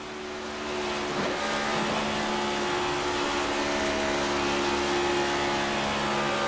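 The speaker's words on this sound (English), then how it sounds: "Let's listen to his engine and action. Just cracking that throttle." Onboard sound of a NASCAR Cup Series race car at Las Vegas, its engine droning steadily with a sustained, loud tone that swells slightly as the throttle opens, with no talk over it.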